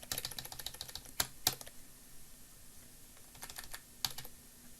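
Computer keyboard keys, Alt held with the left and right arrow keys, clicked in short bursts of soft close taps with brief pauses between, alone without talk, while letter spacing is adjusted in Illustrator.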